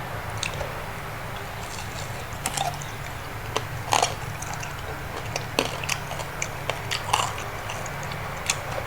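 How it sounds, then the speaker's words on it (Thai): Crispy Thai pork belly is bitten and chewed close up, giving scattered crunchy snaps and wet squishing over a steady background hum, repeating irregularly throughout. "เสียงหมูกรอบ"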